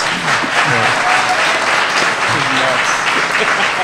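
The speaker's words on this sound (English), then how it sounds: "So can we have a round of applause for our funny guys?" Audience applause fills a comics convention panel on comedy in comics, a steady wash of clapping from a crowd, loud and continuous throughout, with faint voices mixed in underneath.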